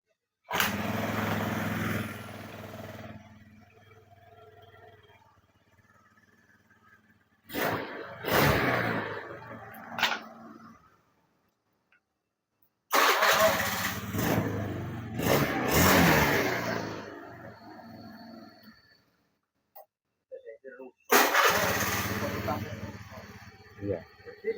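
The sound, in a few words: Honda Beat motorcycle engine starting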